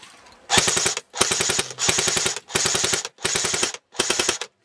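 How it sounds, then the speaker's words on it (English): Six loud, close bursts of rapid automatic gunfire from a team field game at Nanakuli Ranch, each about half a second long and separated by short silent gaps. "Oh, shooting at us."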